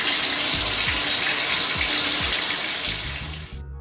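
A shower runs in a steady broadband hiss of falling water, loud and close, before the flow is cut off abruptly near the end.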